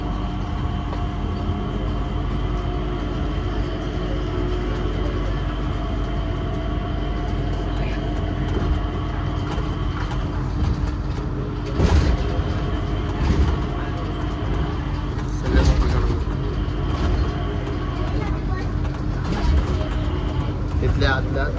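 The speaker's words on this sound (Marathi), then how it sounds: "एअरपोर्टच्या आत मेट्रो चालतंय बघ इकडं." An automated Skytrain runs between terminals inside Singapore's Changi Airport, a continuous low rumbling rail drone with steady wheel and car noise, a few louder clunks along the way, and people talking over it throughout.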